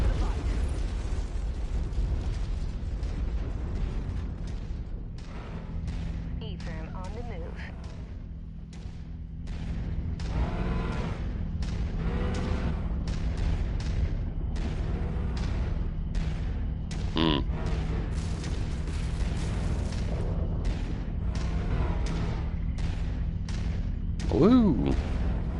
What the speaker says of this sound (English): somebody's missile's about to go pop